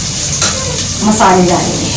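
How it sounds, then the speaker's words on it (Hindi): Onions fry in a pan for street-style chana chaat, a loud, close, continuous sizzle that swells briefly as a voice speaks over it. "बस 1 से 2 मिनट तक हम इसको फ्राई करेंगे"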